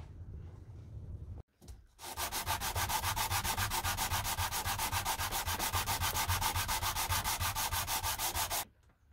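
Handles of a rusty vintage engineer's square being flattened by sanding, a steady, rapid back-and-forth scraping held for about seven seconds at close range, preceded by a brief quieter rub and a short pause.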